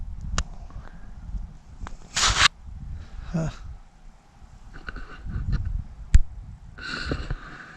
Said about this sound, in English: Whole bunch of geese right over here.